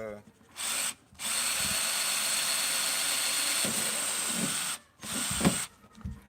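A power drill whirs loudly in three close bursts, a short one, a long sustained run, then another short burst, with brief pauses between.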